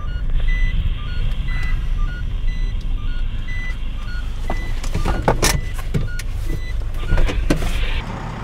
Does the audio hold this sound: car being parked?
yes